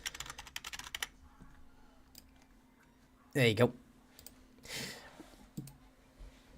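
Quick, light keystrokes on a computer keyboard as numbers are typed, a close, rapid burst of clicks at the start, followed by someone speaking over a quiet background.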